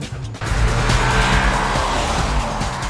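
A 353-horsepower all-wheel-drive car with a six-speed manual gearbox roars up suddenly after a quiet moment, loud and sustained with tire noise as it launches hard from a standstill.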